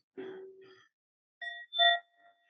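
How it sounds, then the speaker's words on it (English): A meditation timer app plays a bell tone: two clean, sustained chime strikes with steady ringing overtones, the second louder, following a brief low hum, with no voices. "They have a good bell."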